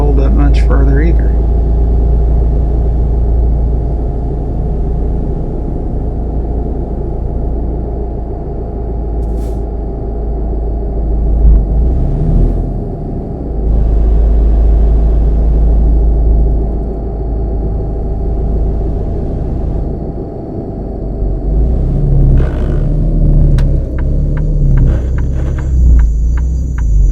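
Worn-out truck in American Truck Simulator, a heavy, loud, steady engine rumble with a few dips and shifts in pitch as the gears change, plus faint clicks near the end.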